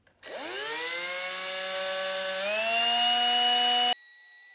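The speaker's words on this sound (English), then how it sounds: "How I'm gonna polish these is basically just lightly chuck it up in my drill and then use the Never Dull to polish it as I'm rotating the drill." A drill spinning an R/C car part from an XRAY XB2C build while it is polished with Never Dull, winding up to a steady high whine that rises slightly in pitch midway, runs loud and close for several seconds, then stops abruptly.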